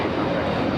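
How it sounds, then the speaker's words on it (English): A Hawaiian Airlines Airbus A321neo takes off at Los Angeles International Airport, its engines roaring loud and steady in a broad, continuous jet rumble with no voices. "This is Hawaiian Airlines Flight 61 taking off to Kailua, Kona on the A321neo."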